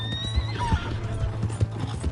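A horse in a video game clip-clops in quick, steady hoofbeats with a whinny mixed in, fairly close and clear, with no talking over it.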